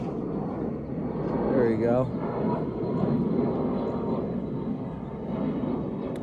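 A fixed-wing airplane passes overhead outdoors, a steady broad engine roar that swells and holds across the whole stretch, with a person talking over it.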